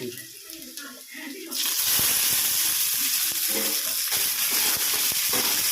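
Onions hit hot oil in a pan for an eggplant kara kuzhambu, and a quieter stretch with a voice bursts into a loud, sustained close-up sizzle that keeps crackling steadily.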